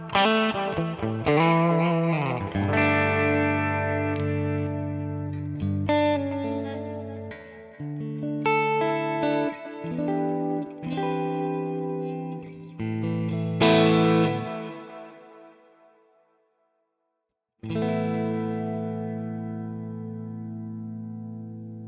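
Electric guitar played through a Nano Cortex amp modeler set to a Fender amp model with delay and reverb, ringing chords and single notes with echoing tails, a brief pause, then a final sustained chord.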